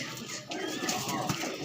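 Pigeons offered for sale, including one with purple feet, give soft low cooing in a quiet setting. The calls are faint and close, with a couple of brief coos and no speech over them.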